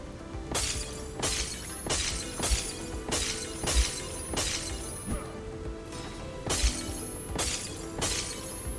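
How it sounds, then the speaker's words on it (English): Glass items clinking and shattering in repeated sharp crashes, roughly every half second to second, during a livestream; loud, bright breaking sounds with no talk. "Sorry for the glass noises again."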